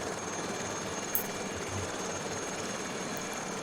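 Aérospatiale Lama SA315B helicopter in Microsoft Flight Simulator 2020 drones in a steady, even rotor and turbine hum, moderately quiet and continuous, with one brief click partway through.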